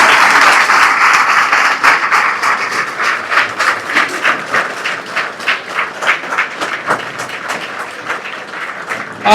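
Students and villagers clapping at a village coaching centre in Sikar: dense, energetic applause in a roughly rhythmic beat, loud and close, gradually thinning toward the end.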